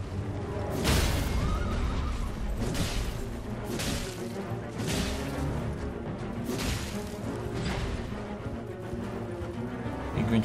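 A horse in the Elden Ring boss fight with Starscourge Radahn neighs loudly several times over rumbling impacts, swooshes and game music, with repeated bursts throughout.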